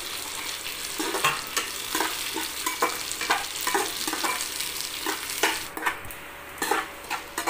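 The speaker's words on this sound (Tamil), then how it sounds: "கருவேப்பிலை போட்டு பீன்ஸும் கேரட்டும் போட்டுக்கலாம். போட்டு கொஞ்சம் நேரம் நல்லா வதங்கட்டும்." Beans and carrots with curry leaves sautéing in a pan, a continuous close sizzle broken by stirring scrapes and light utensil clinks, no voices.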